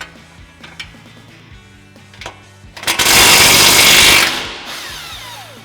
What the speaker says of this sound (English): ours is going to be a 19 mil wrench and a 19 mil socket on our impact